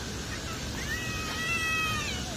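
A hungry black cat meows, a single drawn-out, rising and falling cry heard faintly over steady background noise.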